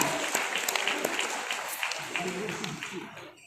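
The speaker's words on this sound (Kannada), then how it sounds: "ಚಪ್ಪಾಳೆಯನ್ನ ತಟ್ಟಿ ಅವರ ಈ ಎಲ್ಲ ಸಾಧನೆಗೆ ನಮ್ಮ ಮೆಚ್ಚುಗೆಯನ್ನ, ಅಭಿನಂದನೆಯನ್ನ ಸಲ್ಲಿಸೋಣ" Applause from an audience honoring Dr. H. N. Devanand for his achievements, dense steady clapping filling the room for about three seconds, then tapering off near the end.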